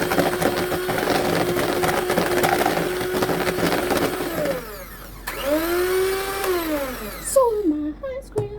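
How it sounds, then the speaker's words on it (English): Electric mixer stirring a homemade ice cream mixture, a steady motorized whir for several seconds that then slows, drops away and changes pitch near the end. "let me just stir it together with my mixer so that the flavor and the ice cream incorporate properly"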